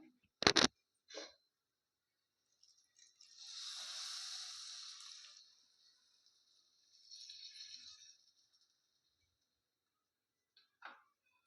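Tamarind water poured into a simmering brinjal gravy, heard as two soft hissing splashes of liquid, the first longer than the second, with a few isolated clicks and knocks around them in an otherwise quiet kitchen.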